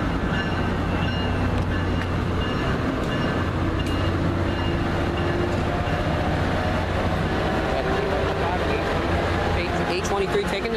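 A northbound Amtrak train departs toward Boca Raton, a steady low rumble and rolling rail noise that holds throughout, with a voice talking over it.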